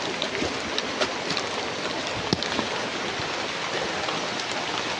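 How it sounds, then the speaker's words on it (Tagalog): Heavy rain pours down in a dense, steady hiss with scattered louder drops spattering on a surface, continuous and close throughout. "malakas ang ulan dong"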